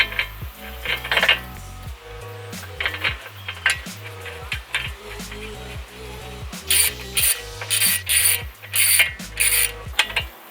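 Ratchet tightening brake caliper bolts on a Nissan GT-R: rapid metallic clicking ratchet strokes in several bursts separated by brief pauses, close and clear, with some clinking of tools and no voices.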